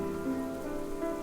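Steady rain falling in a video game, a soft continuous patter on surfaces with no voices, lying under sustained tonal music or ambience.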